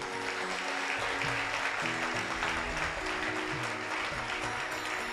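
An audience at a tribute gathering for a saint in Itwari, Nagpur applauds, a sustained wash of clapping at fairly even loudness, with faint tonal background sound and no talk.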